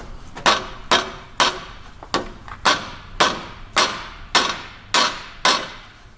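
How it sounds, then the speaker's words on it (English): Ten sharp metallic hammer blows on a Honda Civic EF steering knuckle at a steady pace, each ringing briefly before the next, loud and close with no talking. "Where's the murder hammer at?"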